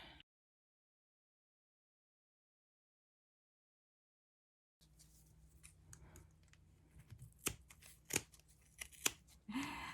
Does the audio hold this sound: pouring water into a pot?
no